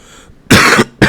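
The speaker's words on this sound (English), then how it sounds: "Sorry for all the coughing" A man gives two sharp, loud, close coughs, one longer burst then a quick second, right after smoking a blunt.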